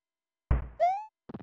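Firework sound effect from the Super Mario Collection video game on an athletic stage: a soft thump, then a whistling tone, then a brief crackle, with silence around it.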